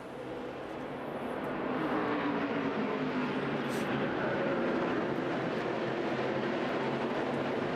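NASCAR stock cars racing at the 2013 Zippo 200 after a restart, a dense loud engine roar building in the first seconds and then holding steady as the field passes.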